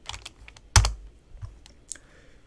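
Computer keys pressed in a short sequence, a few soft taps and one louder clack, close and clear with no talk.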